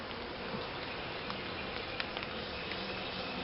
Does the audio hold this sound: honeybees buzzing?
yes